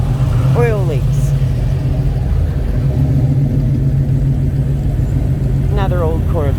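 An old Corvette engine rumbles at a car show, a loud, low, steady idle close by with a slight rise, under outdoor crowd noise and people talking.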